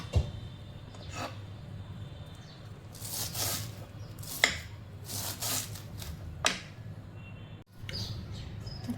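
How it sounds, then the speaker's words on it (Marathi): Fresh coriander leaves being finely chopped with a knife in a home kitchen while making Konkani kothimbir vadi: a few irregular, sharp chopping strikes, moderately close, over a quiet background. "चला तर आपण कोथिंबीर बारीक कापून घेऊया।"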